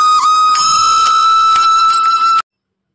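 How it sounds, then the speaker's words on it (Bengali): Melon seeds are ground for a homemade milk paneer recipe, producing a loud, steady high-pitched motor whine that runs for a little over two seconds and then cuts off abruptly into silence. "তো প্রথমে আমি মগজদানাটাকে বেটে নিচ্ছি।"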